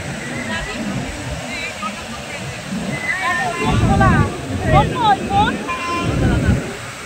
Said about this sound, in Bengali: সমুদ্র মানে অবিরান্ত, সেই সকাল থেকে শুরু করে।